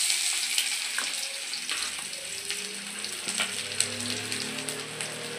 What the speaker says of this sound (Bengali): আমি তেলে একটা শুকনো লঙ্কা ফোড়ন দিয়ে দেব আর কিছু জিরে দিয়ে দেব। আর দিয়ে দেব পেঁয়াজ